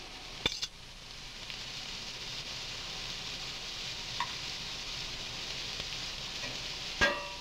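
Bok choy stems frying in plenty of olive oil in a pan, a steady close sizzle throughout, broken by a few sharp clinks of a utensil against the pan.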